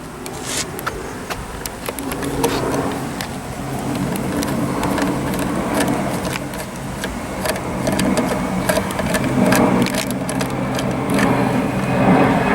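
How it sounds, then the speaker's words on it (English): A driver turns T25 screws into the front door window assembly of a Mercedes S550 W221, giving a loud, steady mechanical whir with a rough edge that runs continuously for the whole stretch, up close and without speech. "Now with a T25, then you're gonna get to these two screws"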